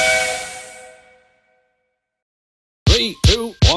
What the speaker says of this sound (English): Gordon the Big Engine let off steam and approached them out of his shed